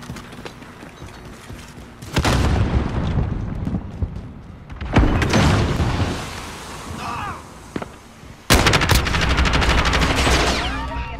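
Gunfire in the Call of Duty video game, with bursts of automatic rifle fire and sharp shots between quieter stretches of game sounds, loud and close.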